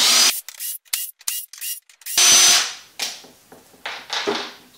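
Screws being driven out of the handle assembly of a Pelican 1510 case, heard as a series of short, loud mechanical whirring bursts with gaps, then longer spinning runs close by.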